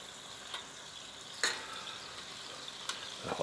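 A ribeye steak frying in melting butter with thyme sizzles steadily and close, with a few sharper spits and pops standing out over the constant crackle.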